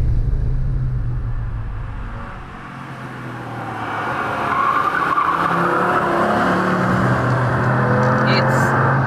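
An Audi GT Coupe drives over a bumpy section of road, with engine and road rumble dipping briefly, then swelling into a louder, rougher tyre-and-wind roar heard close from inside the car.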